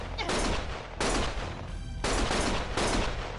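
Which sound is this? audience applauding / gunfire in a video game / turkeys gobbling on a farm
gunfire in a video game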